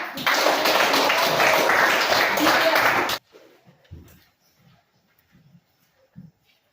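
A class of students claps loudly together for about three seconds in a dense burst, then it stops abruptly, leaving a quiet room with a few soft voices and small noises.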